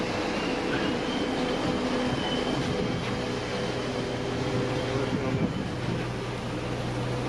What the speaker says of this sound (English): Stop the fire pump, thank you.